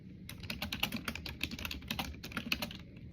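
Rapid typing on a computer keyboard in an office, a dense run of crisp, close key clicks in an uneven rhythm, with a short pause near the end and no talking.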